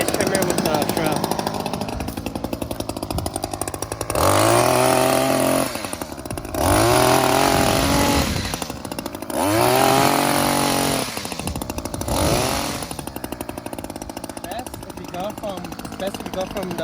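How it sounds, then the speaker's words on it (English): A hedge trimmer cutting a hedge, its motor buzzing loudly and surging in several bursts as the blades bite, then easing between passes, with someone talking over it. "Today we're going to be cutting this hedge over here."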